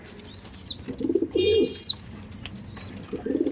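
Pigeons coo in hot weather, low throaty coos rising in a few close bursts alongside softer, higher chirps, with no talking.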